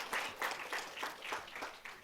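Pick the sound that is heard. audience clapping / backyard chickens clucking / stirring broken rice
audience clapping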